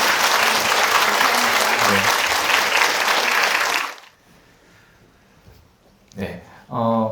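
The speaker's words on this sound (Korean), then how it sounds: "힘내시라고 박수 한번 드려야 돼요." Dense, loud applause from a book-concert audience for a tarot master's event fills the first few seconds, then cuts off to near quiet before a voice resumes speaking.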